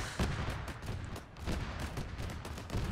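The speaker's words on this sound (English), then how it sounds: "Start firing on the fucking trench!" Gunfire in the military game Arma 3 during a trench assault: dense, rapid volleys of shots and distant booms overlapping continuously at moderate, somewhat distant level.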